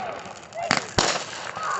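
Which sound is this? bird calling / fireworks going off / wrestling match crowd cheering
fireworks going off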